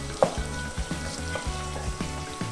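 Salted onions frying for mutton biryani, sizzling steadily in oil with a few soft stirring scrapes and taps, close and alone.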